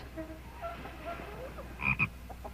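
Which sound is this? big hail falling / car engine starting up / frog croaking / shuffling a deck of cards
frog croaking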